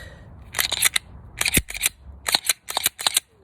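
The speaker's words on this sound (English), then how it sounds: "Take it back. Make sure it catches. Hear that click." Several sharp metallic clicks and clacks of a Glock 19 pistol slide being worked and snapping into place, in uneven bursts, close up with no talking.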